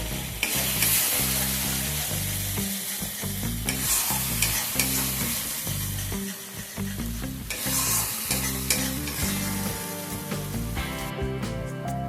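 Spice paste for a bhetki fish curry fries and is stirred in a pan. A loud, continuous sizzle is broken by repeated scraping stirs, with music playing underneath throughout.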